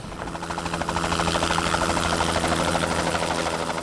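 A helicopter lands at Tinian airport, its steady, loud rotor chop and engine drone filling the scene without pause.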